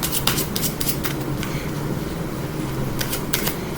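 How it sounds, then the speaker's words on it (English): A deck of playing cards is shuffled up close, giving quick riffling bursts over a steady background hum, with no one speaking. "we can just shuffle that 9 into the center of the deck"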